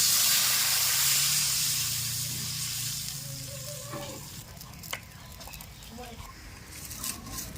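Water poured onto a sizzling fried spice paste for a small-fish curry sends up a loud hiss and steam burst that gradually fades into quieter bubbling, with a voice and a few clinks later.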